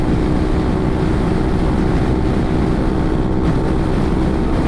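A Honda Forza 300 (NSS300) scooter at full throttle near 80 mph and 8,000 RPM, carrying a heavy rider, gives a steady, loud engine drone buried in constant roaring wind buffeting throughout.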